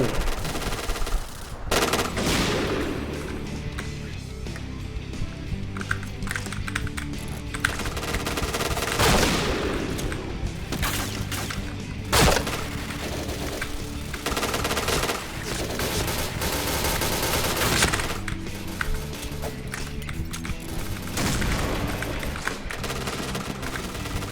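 Loud bursts of rifle and automatic gunfire from the Point Blank online shooter, with the XM2010 sniper rifle in play, crackling almost nonstop as shots overlap throughout a busy firefight.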